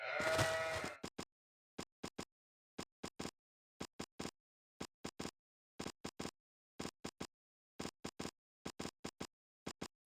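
Sheep bleat once in the Age of Empires 2 strategy game, a short loud call at the start, followed by a long run of faint, sharp clicking game sounds in irregular bursts.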